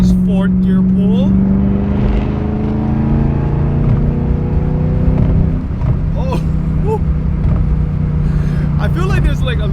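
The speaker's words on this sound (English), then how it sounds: "let's do a nice fourth gear pull" A Ford GT500 fitted with a Flowmaster Outlaw exhaust pulls hard in fourth gear inside the car, its loud droning engine note rising steadily in pitch throughout, with excited voices speaking over the roar.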